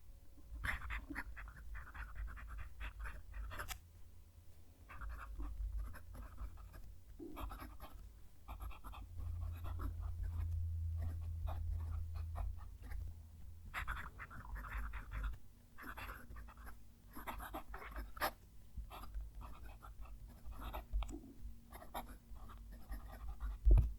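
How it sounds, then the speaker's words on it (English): Close-up scratching of a fountain pen nib moving across paper in short strokes and pauses, quiet but distinct, with faint breathing in the background. "I'm going to move the mic down to the page so you can hear the nib write."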